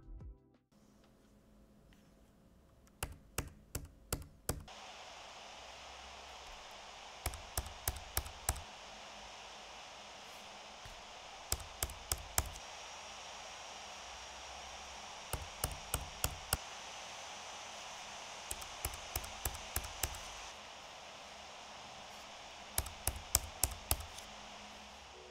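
An HP EliteBook 845 G10 laptop under light tasks gives a faint, steady fan hiss, with bursts of sharp, close keyboard or tapping clicks in groups every few seconds.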